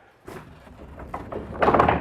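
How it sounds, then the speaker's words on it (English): A pocket door in an 1888 Victorian mansion slides along its track with a short rolling rumble that grows louder as it closes, heard close by and with no talking. "There are functional pocket doors."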